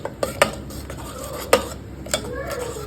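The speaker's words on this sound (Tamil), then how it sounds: "அடித்த பேஸ்ட்டை இப்போ குக்கரில் அந்த வெங்காயம், தக்காளி, மஞ்சத்தூள், மிளகாத்தூளோடு சேர்த்து நம்ம பச்சை வாசனை போகிற அளவுக்கு நல்லா வதக்கணும்." Metal utensil scrapes and clinks against a pressure cooker in irregular strokes while sautéing a ground paste with onion and tomato, over a low steady background hiss.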